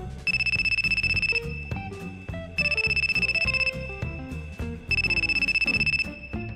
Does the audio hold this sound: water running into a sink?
no